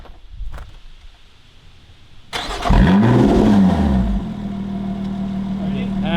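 Lotus Exige with a titanium exhaust firing up after a quiet stretch, the engine catching with a sharp bark, flaring in revs and then settling into a loud, steady idle close by.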